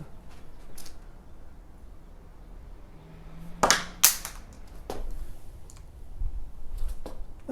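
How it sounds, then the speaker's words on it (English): A pen thrown at a bullseye target lands with a couple of sharp, close taps and clicks, set against a quiet room with faint scattered handling noises. "Now I'm going to take this pen and I'm going to throw it at that bullseye"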